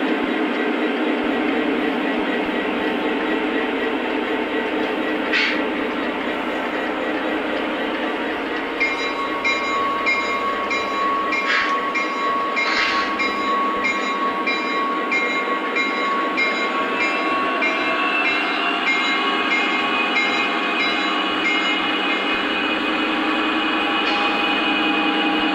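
Uncoupled Lionel Legacy O gauge model train locomotives run steadily with a continuous motor hum and rolling clatter, while a thin horn-like tone sounds partway through.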